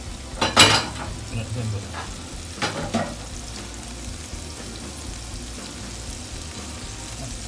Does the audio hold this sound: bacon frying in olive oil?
yes